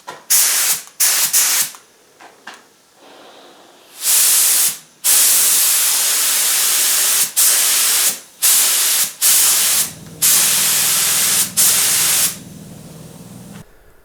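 Lacquer is sprayed from a can onto a Telecaster guitar headstock in a string of close, loud hissing bursts of varying length, with short quiet gaps between them.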